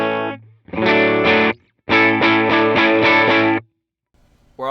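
Electric guitar runs through a multi-effect unit's distorted amp model, captured with a new microphone: loud, close bursts of driven chords, one long sustain, then a quick series of rhythmic strums before a brief pause.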